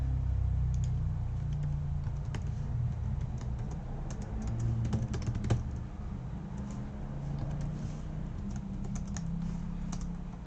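Keys clatter on a computer keyboard in uneven bursts for about ten seconds, close and moderately loud over a low room hum, with the typist reaching around a cat and missing keys.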